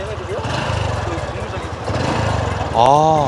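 A motorcycle engine putters steadily, then its pitch climbs sharply as the throttle is opened near the end, with people talking over it.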